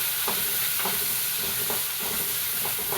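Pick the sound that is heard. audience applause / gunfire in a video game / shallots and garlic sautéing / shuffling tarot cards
shallots and garlic sautéing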